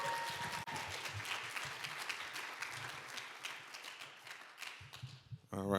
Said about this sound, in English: And can we give a round of applause to Dr.